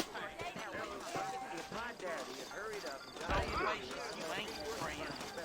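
Saddled horses clip-clopping at a trot in the western video game Red Dead Redemption, hooves steady and fairly close under continuous talking voices and game sound.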